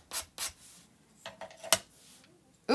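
Short scratchy rubbing strokes, a few brisk passes with pauses between, close up and fairly loud.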